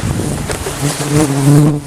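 A dense swarm of horseflies, mosquitoes and midges buzzes loudly and close around a hiking camp in the hot, sunny Polar Ural mountains, a continuous droning whine with wavering pitch and no speech.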